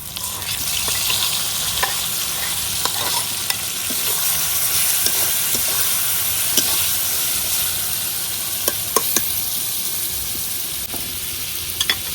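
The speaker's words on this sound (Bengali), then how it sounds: "এখন যে মাছ মশলা মাখায় রাখছিলাম মাছটা দিয়ে দিতেছি।" Koi fish rubbed with spices sizzling in a pan over lightly fried chopped onions, a steady close broadband frying hiss with scattered crackles and pops throughout, no voices.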